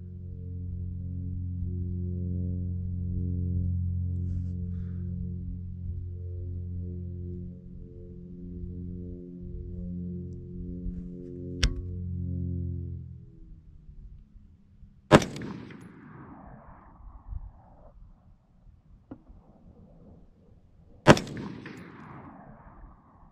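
Aero Precision AR-style rifle with a rifle-length gas system, heard as a steady low hum followed by two loud, sharp gunshots spaced several seconds apart, each trailing off with a short echo.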